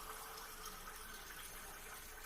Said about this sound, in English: Okay, so we added 1 can of water.